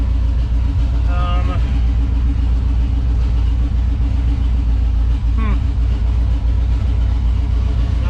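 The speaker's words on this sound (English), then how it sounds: "Let's shut her off. I don't run her running too long until I get her on the dyno. And man, this thing's loud." A 20-year-old drag car engine idling loud and rumbling close by, a heavy continuous low drone that never lets up, with people talking over it.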